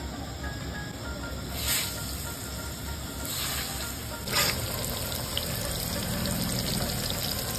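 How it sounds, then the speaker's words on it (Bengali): Potatoes frying in hot oil in a home kitchen, seasoned with turmeric: a steady, soft sizzling hiss that runs throughout, with a few brief louder crackling surges. "দিয়ে এটার মধ্যে এবার আমি আলুগুলোকে ভেজে নেবো।"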